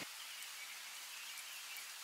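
Light rain falling in a forest, a stock sound effect, as a soft, steady high-pitched hiss of fine drops, faint and continuous with no voices.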